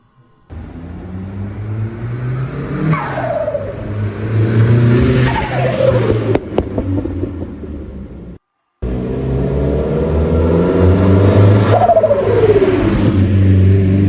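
A Cosworth car with a freshly rebuilt engine drives past close up, its engine note rising and falling as it changes gear, with a short dropout in the middle before the steady engine sound returns.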